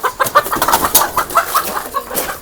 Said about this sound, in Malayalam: ഇതിൻ്റെ ഉള്ളിൽ ഒരു കോഴി ചത്തെടുക്കുന്നുണ്ട്.